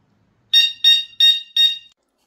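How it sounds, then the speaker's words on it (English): Four short, loud, high-pitched electric bike horn beeps from a Cyrusher Ovia in an even rhythm, each lasting about a quarter second, with no talking. "Geez, this is a loud horn."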